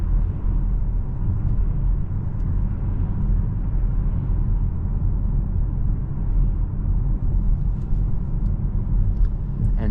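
A 2025 Nissan Qashqai facelift with a 1.3 DIG-T mild hybrid engine and automatic transmission cruises at night, heard from inside the cabin as a continuous low rumble of engine and road noise, steady and fairly loud.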